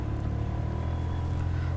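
The Hero Destiny 125cc BS6 scooter idles just after starting, giving a steady, close, low engine hum with a faint rumble that holds for under two seconds with no talk.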